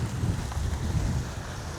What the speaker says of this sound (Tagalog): Grabe naman yung hangin oh.